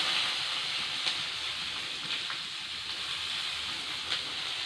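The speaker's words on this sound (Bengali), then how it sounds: "এর মধ্যে দিয়ে দেবো কেটে রাখা পেঁয়াজগুলো" Chopped onions go into a hot pan and sizzle with a steady, fairly loud hiss that holds for several seconds, broken by a few small pops.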